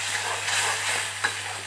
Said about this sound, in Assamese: নহৰু পিঁয়াজ আৰু জলকীয়া বিলাহী এই আটাইখিনি সংমিশ্ৰণ কি কৰিলোঁ মই কেৰাহীত দি দিলোঁ